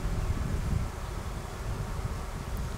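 A honey bee swarm gives off a continuous low buzzing outdoors, with some wind rumble across the microphone and faint rustling. The sound is a little louder at the start and stays steady after.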